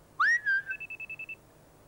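A person whistles a rising then falling call, and a whistle-finder keychain answers with a quick series of about eight short, evenly spaced high beeps, close and clear with no talk.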